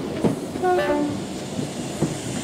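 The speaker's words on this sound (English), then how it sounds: "The Kowloon Central Railway takes you from Kowloon Station through the New Territories to the border station Lo Wu in less than 40 minutes." A Kowloon Central Railway train in Hong Kong rolls past, with a short two-tone horn and rhythmic clicking of wheels over rail joints, fairly close and steady.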